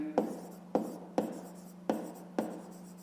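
A pen writes out a fifth-grade maths exercise answer on paper, five distinct scratching strokes spaced about half a second apart, close and quiet against a low steady hum.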